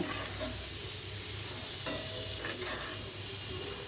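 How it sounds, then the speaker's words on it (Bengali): Singhi fish being stir-fried in spices in a pan for a fish curry, a continuous close sizzle with occasional scraping stirs, no voices. "মাছগুলো দিয়ে আমি খুব ভালোভাবে কষাবো"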